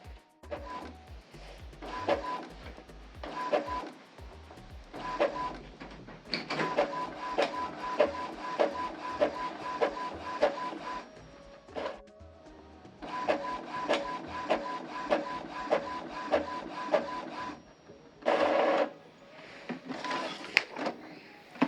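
An Epson EcoTank ET-2870 inkjet printer runs through a print job, with rhythmic mechanical clatter, whirring feed motors and repeated carriage passes, steady and close, pausing briefly before a final burst of paper handling.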